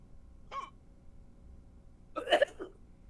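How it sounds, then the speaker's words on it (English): Two hiccups from a person during an evening tabletop gaming session: a short, sharp one first, then a louder, breathier hiccup a moment later, both close against a quiet room. "I heard hiccups."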